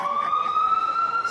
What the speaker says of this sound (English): I hear the siren.